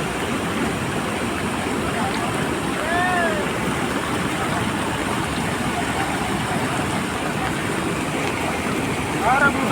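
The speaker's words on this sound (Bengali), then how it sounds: "জল কত দ্রুত থেকে চলছে" Fast-flowing water rushing past a road, a broad, steady roar that stays constant throughout, with a few faint chirps or squeaks on top and no clear speech.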